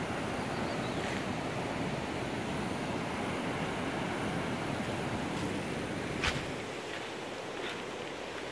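A river swollen after rain rushes in a continuous broad roar, steady and fairly distant, with only a faint brief knock partway through.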